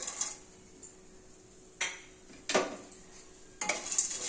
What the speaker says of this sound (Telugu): స్టవ్ బంద్ చేసి పుట్నాలు వేసి ఈ వేడికి కొద్దిగా వేయించుకోవాలండి